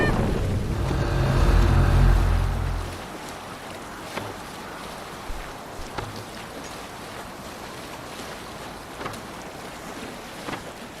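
A Viking longship sailing on the sea in Assassin's Creed Valhalla: a loud rush of wind and water for the first few seconds, then a quieter steady wash with occasional soft knocks and creaks.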